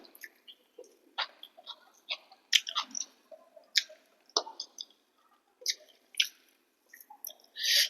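Someone eats amla (Indian gooseberry) mixed with rice, producing close, quiet wet chewing and mouth sounds in irregular bursts, with no talk.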